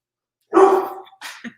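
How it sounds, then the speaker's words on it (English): A dog on guard gives a single sharp bark followed by a shorter, softer second bark, close to the microphone against a silent background. "So the dog thinks she's guarding."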